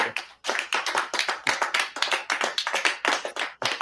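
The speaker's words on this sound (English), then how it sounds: "give me a small group of people clapping" Small group of people clapping, AI-generated, with dense rapid hand claps in bursts that swell and fade repeatedly, close and fairly loud, with no talking.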